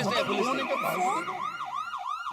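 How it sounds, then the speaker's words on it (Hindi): A police siren ringtone on a phone, wailing and cycling up and down repeatedly, loud and close, with a tinny, electronic quality. "फोन में पुलिस सायरन का रिंगटोन क्यों रखा?"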